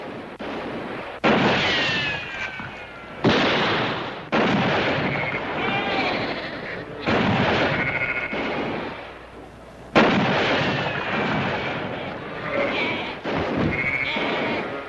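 Gunshots in a western gunfight, loud sharp reports spaced a couple of seconds apart, each ringing out with echo over a noisy outdoor backdrop, while men call out between shots.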